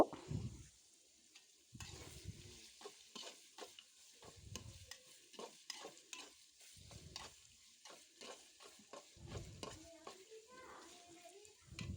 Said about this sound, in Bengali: পেঁয়াজ কুচি দিয়ে দিলাম একটু ভেজে নিব